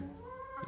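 A hen clucking close by in a farmyard with cattle, one short harmonic call alone without speech.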